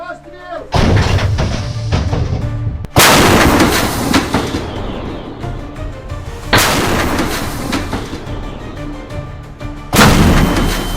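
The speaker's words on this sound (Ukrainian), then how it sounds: "Андрій, один зарядити по готовності постріл." Repeated heavy artillery blasts, loud and booming, each followed by a long rumbling decay; several shots spaced a few seconds apart.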